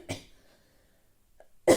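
A woman coughs twice, one short burst at the start and a sharper, louder one at the end, with near silence and a faint breath between them.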